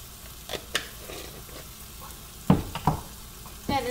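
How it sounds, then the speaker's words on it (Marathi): Turmeric going into clams frying in a pan, a soft steady sizzle with a few sharp spoon taps and stirring clinks, close and fairly quiet with no talking. "त्यानंतर हळद टाकते."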